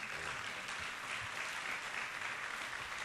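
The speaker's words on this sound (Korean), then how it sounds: "박수하겠습니다." Audience applause fills a church, a dense, steady clapping from a congregation that holds at even loudness for about three seconds with no one speaking over it.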